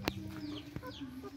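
Native chickens of the Siamo Basilan breed cluck in short, close bursts over a steady low farmyard hum on a provincial farm in the Philippines, with one sharper squawk near the start.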